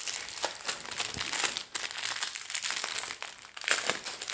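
Plastic packets of resin diamond painting drills are torn and opened, giving loud, close crinkling and crackling that comes in bursts with brief pauses between them.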